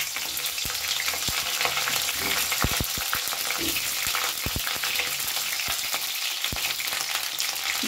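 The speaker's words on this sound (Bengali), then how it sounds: "গ্যাসের ফ্লেমটাকে হাইতে রেখে ফুলকপিটা একটু ভালো করে ভাজা মতো করে নেব।" Cut cauliflower fries in a pan over a high gas flame, a continuous close sizzle broken by sharp clicks and scrapes from stirring.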